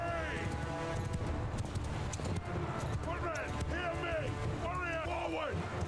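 Horse archers' hooves clip-clop and gallop across a Mount & Blade II: Bannerlord battlefield, a steady drumming of many horses under nearby voices and battle noise.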